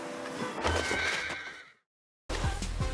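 Horse in a video game whinnies loudly with breathy, shaky neighs and a faint clip-clop of hooves, then a short silence and a brief return of game sound.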